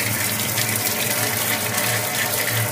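Water gushes steadily into slightly sour, fridge-kept buttermilk in a village kitchen, a continuous close splashing pour with no speech.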